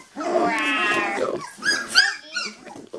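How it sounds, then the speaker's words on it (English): A three-week-old puppy from a litter lets out a close, drawn-out whiny growl that breaks into yips and squeaky vocal bursts, loud and near with no talk over it. "Is that Marcy growling?"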